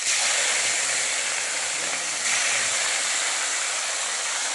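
Rohu fish sizzles in hot oil in a mess kitchen while mustard fish curry is prepared, giving a loud, steady frying hiss that runs unbroken throughout, with no voices.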